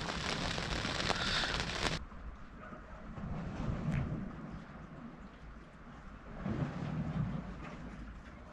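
Rain falls on a sailboat during a thunderstorm, a steady hiss of drops that is heavy at first, then thins into a softer patter with gusty low rumbles. No voices are heard.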